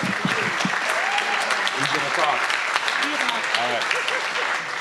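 Dense, steady applause from a crowd at an all-school homecoming assembly, continuous clapping throughout with voices and shouts woven into the noise.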